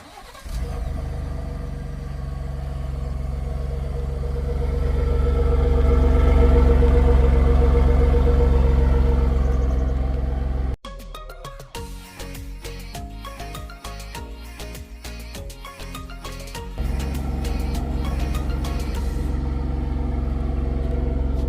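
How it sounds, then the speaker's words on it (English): 2025 Ford F-150 Tremor with its EcoBoost engine and dual exhaust, starting up and then idling and revving: a steady loud rumble that swells, then a sharp cut to rapid pulsing engine revs before settling back into a smooth drone. "It's dual exhaust and really nicely tuned EcoBoost engine with its 500 pound-feet of torque actually sounds better than it ever has."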